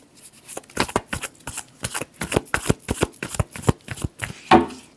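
A deck of tarot cards is shuffled by hand in quick, close riffling bursts, about a dozen crisp flurries in an uneven rhythm, with one louder rustle near the end.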